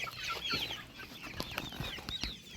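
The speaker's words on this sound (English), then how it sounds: "Now let's give some to these other chickens." Several chickens, future laying hens, cluck and squawk close by, a busy overlapping chorus of short calls with occasional louder clucks.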